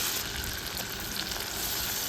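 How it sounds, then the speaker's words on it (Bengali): Ground onion paste fries in a pan, giving a dense, even sizzle close by that holds steady from start to finish with no voices. "বাটা পেঁয়াজটা দিয়েও ভালো করে আমি ভাজবো"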